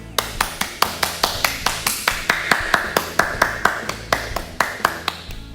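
Steady rhythmic clapping during a children's online church worship service, sharp evenly spaced claps at a brisk tempo, fairly close and crisp, roughly three per second.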